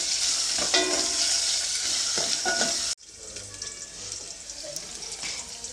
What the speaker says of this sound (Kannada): ಈರುಳ್ಳಿನ ಎಣ್ಣೆಯಲ್ಲಿ ಒಂದು ಸ್ವಲ್ಪ ಫ್ರೈ ಮಾಡ್ಕೊಳ್ತೀನಿ